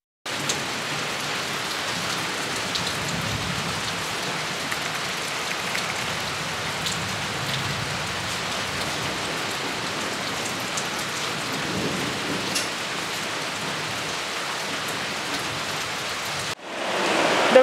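Heavy rain pours steadily with a continuous dense hiss, low thunder rumbling through it, ending with a sudden louder shift.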